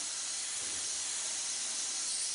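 An airbrush sprays a steady, close airy hiss of compressed air during an air pressure test, unbroken throughout, with no voices.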